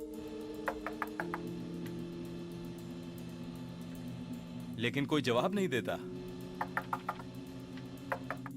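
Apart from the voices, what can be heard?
knocking on a cockpit door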